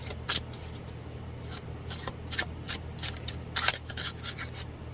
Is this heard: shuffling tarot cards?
yes